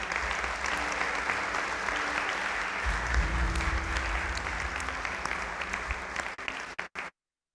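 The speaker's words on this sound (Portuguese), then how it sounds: "Você pode aplaudir o Senhor Jesus nessa noite?" A church congregation applauds in a long, steady wash of clapping with some low rumble and faint voices beneath, thinning toward the end before cutting off abruptly.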